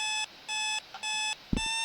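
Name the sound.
alarm clock ringing in video game Sally Face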